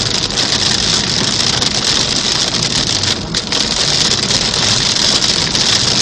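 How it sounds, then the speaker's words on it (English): Heavy rain pours down on a moving car, a dense, steady roar of drops drumming across the body and windshield, loud and unbroken with no voices. "And here is crazy rain."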